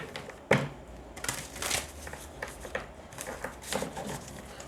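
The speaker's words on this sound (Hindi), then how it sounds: "One more shuffle, not a good shuffle" A deck of tarot cards being shuffled, heard as several quick papery riffling bursts close by with short pauses between them and no talking.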